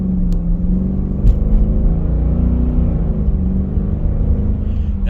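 A Dodge Durango R/T fitted with an aftermarket exhaust accelerates at about quarter throttle, giving a steady, loud, close engine rumble with a deep, even drone throughout.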